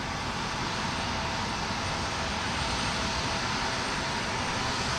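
Boeing 737-900 airliner at Houston Intercontinental Airport, a steady broadband engine roar that stays even throughout, heard from a distance and fairly faint.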